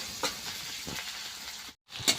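Chopped onion frying with five-spice (panch phoron) in a pan of oil, a steady soft sizzle with light stirring scrapes, briefly cutting out near the end before resuming.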